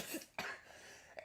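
A person coughs in several short, harsh bursts, with a fainter cough at the end, while struggling with ammonia fumes. The coughs are close and fairly quiet, with no speech.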